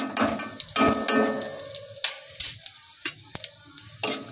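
Two dried red chillies and a spoonful of nigella seeds fry in hot oil for a pointed gourd bhujia. The sizzle crackles unevenly, broken by sharp ticks and scrapes of stirring, with no talk.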